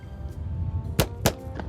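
Two sharp, quick releases from a bow sound a fraction of a second apart, each a crisp snap-and-whoosh over a low steady background hum, with a fainter similar hit just after.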